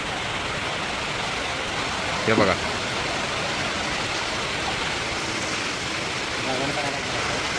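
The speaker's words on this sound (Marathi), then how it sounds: "लयच पाऊस वाढला" Dense, steady roar of heavy rain fills the whole stretch, with a short spoken phrase briefly rising above it.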